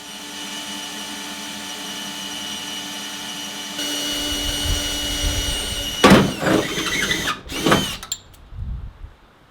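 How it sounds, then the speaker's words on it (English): A power drill whines steadily, then bursts of louder, rougher drilling come in short uneven spurts before cutting off into quiet, during stripdown of a Series 1 Land Rover. "I found them best tackled with the drill."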